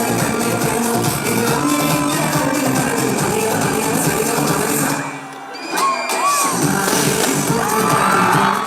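A huge crowd roars and cheers on Kozhikode beach at the GTech 25th anniversary event, a dense, loud wall of shouting and whooping that dips briefly and then surges back.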